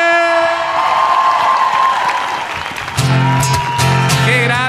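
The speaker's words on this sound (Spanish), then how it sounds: "Quiero que reciban con un fuerte aplauso al hombre de la noche" Audience applause and cheering at a Teletón 2023 telethon stage event, a steady dense crowd clapping with whoops, swelling again near the end, loud and close with no talk over it.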